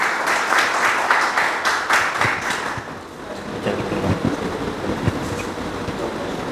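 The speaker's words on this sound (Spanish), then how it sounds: "Le damos un fuerte aplauso" An audience at a philosophy lecture event applauds a speaker with a dense burst of clapping for about two and a half seconds, then fades into scattered claps and room noise.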